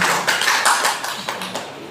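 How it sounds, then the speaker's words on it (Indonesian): Group applause at the closing of a school principals' training session, a short burst of clapping with distinct, fairly loud claps at an uneven rhythm that thins out toward the end. "Tepuk tangan untuk kita semua."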